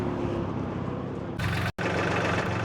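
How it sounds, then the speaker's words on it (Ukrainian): A mini tractor's engine runs steadily at a low, rough idle, close and continuous, with a brief cut partway through and no talk. "А ось приїхав тракторець е, з іншого торгівельного майданчика."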